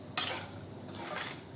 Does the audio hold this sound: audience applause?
no